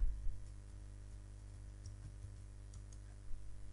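Quiet clicking of keys on a computer keyboard while text is written in Microsoft Word, soft and fairly close over a steady low electrical hum.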